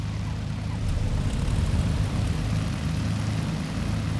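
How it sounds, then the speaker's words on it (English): Steady, loud drone of the left Lycoming piston engine on a BN-2 Islander in Microsoft Flight Simulator 2020, a dense, low propeller rumble that holds level and unbroken throughout. "the Lycoming engine to the left side is turned on"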